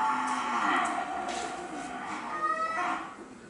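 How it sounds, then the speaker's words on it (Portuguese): Cows mooing on a farm, a drawn-out low call held over most of the moment at moderate distance, with faint background noise and no clear talk. "As vacas mais velhas estão ali."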